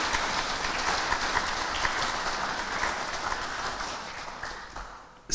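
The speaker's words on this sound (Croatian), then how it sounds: "Molim vas za još jedan gromoglasan aplauz" Sustained audience applause in a hall in Sarajevo, steady broadband clapping for over five seconds before it cuts off abruptly near the end.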